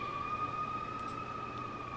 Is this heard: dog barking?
no